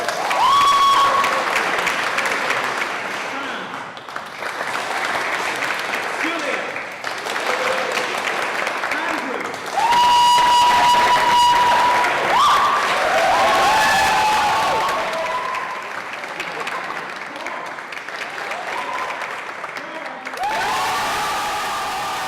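A debate audience breaks into sustained applause, many hands clapping steadily for over twenty seconds, swelling and dipping in several rounds with brief pauses between, with faint voices and a light cheer under it.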